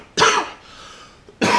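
Two harsh coughs, close and loud, separated by a short quiet breath.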